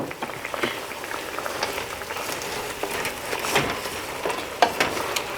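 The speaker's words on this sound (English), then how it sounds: "open the pot, pour in my fish, and let it cook for 5 minutes. You can stir that up." Bubbling simmer of banga soup with fish in a pot, a dense crackling boil with occasional clinks from stirring, close and steady, no talking.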